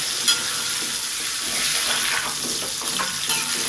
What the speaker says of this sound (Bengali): পটলটা প্রায় ভাজা হয়ে গেছে এবার আরেকটু নেড়ে চেড়ে নেব